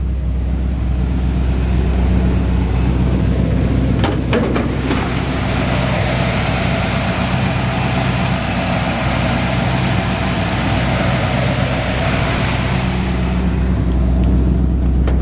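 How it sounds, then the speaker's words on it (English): A 1950 Ford F-1 pickup engine idles steadily with a deep low rumble, close and constant throughout, with a few brief clicks and rattles near the start and no talking. "Nice healthy engine."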